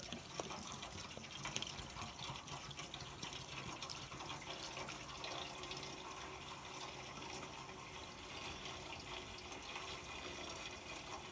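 Water pouring steadily into the radiator of a John Deere 7520 tractor, a continuous rushing, splashing flow at even loudness with no talk.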